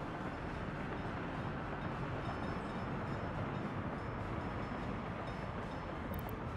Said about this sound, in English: Because the train comes in here.